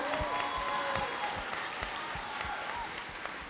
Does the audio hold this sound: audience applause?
yes